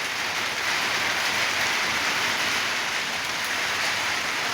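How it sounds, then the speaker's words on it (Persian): A heavy rain shower pours down in a late-afternoon downpour, a loud, steady, even hiss of rainfall on surfaces that fills the whole stretch without pause or voices. "ماشاءالله شدید داره میاد دیگه، رگباری داره میاد"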